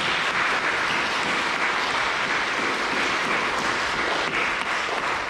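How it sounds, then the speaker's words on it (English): A church congregation at a Wednesday Mass gives the parish helpers a big round of applause, a dense, steady clapping that fills the space without a break. "Let's give them a big round of applause."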